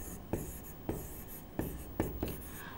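Chalk or marker writing out a math problem on a board, five sharp strokes at irregular intervals over faint room tone, with no talking.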